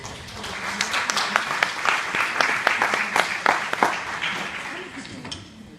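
Audience at an international academic congress applauds a speaker being welcomed to the stage, steady dense clapping filling the room throughout, loud and close, easing slightly toward the end.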